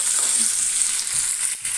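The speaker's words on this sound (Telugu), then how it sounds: "ఇవన్నీ బాగా వేగాలి" Spices and gongura leaves fry for sesame chutney, giving a steady close sizzle and crackle that runs without a break for under two seconds, with no voices over it.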